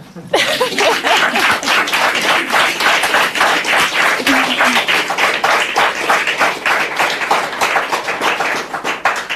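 An audience claps steadily and loudly throughout, a dense, sustained round of hand claps with a little laughter mixed in, at a talk show about daring to dream.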